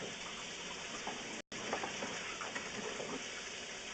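Water running through a pipe, a steady gushing flow with a brief cutout partway through and faint scattered clinks.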